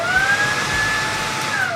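Dreame T20 cordless vacuum cleaner running in eco mode, a steady whirring motor hum with a smooth high whine, constant and fairly close with no talk.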